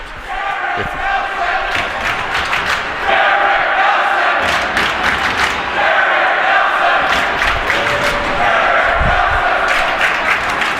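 A crowd at a Guilford varsity hockey game against Hand of Madison cheering and chanting in a steady, sustained roar with rhythmic chant swells and occasional thuds from the rink, while commentators talk over it.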